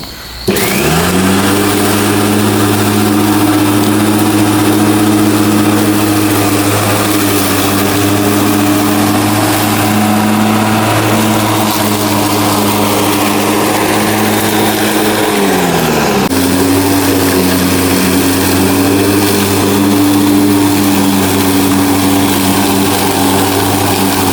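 Petrol lawn mower engine being restarted after servicing, with its blade freshly sharpened and the cutting deck set high, runs at a loud, steady near drone throughout, dipping briefly in pitch partway through before settling again.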